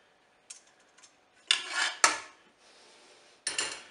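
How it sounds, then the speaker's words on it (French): A metal steaming basket comes out of a Cookeo multicooker with carrots and onions, giving a few sharp clanks and scrapes of metal against metal, spaced out and close, with quiet gaps between. "Je vais enlever le panier."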